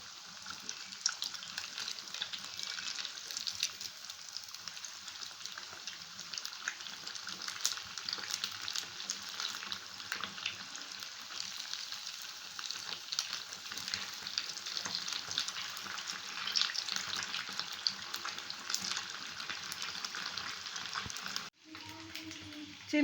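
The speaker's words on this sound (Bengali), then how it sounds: "ল্যাংচাগুলো ভাজা হয়ে গেছে, এবার তুলে নিচ্ছি।" Semolina langcha sweets sizzle and crackle steadily in hot frying oil, a dense continuous hiss with faint stirring clatter, ending in a brief quiet break and a soft clink.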